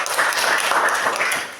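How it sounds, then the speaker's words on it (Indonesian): Classroom students clap together in a short burst of dense applause that tapers off after about a second and a half. "Oke, tepuk tangan dulu ya."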